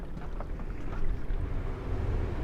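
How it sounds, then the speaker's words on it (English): Steady low wind rumble buffeting the microphone outdoors, a continuous roar with a slight gust swell midway. "ooh, it's windy."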